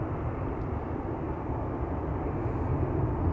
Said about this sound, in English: this is KLM flight 597, outbound to Cape Town